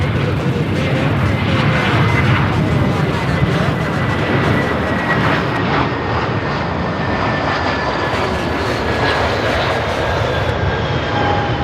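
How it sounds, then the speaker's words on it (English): A Contour airliner takes off from Charlotte airport, its jet engines holding a loud, steady roar with a rising whine throughout, heard from nearby with faint voices beneath. "We have a Contour getting ready to take off from 1A Center headed into Beckley, West Virginia."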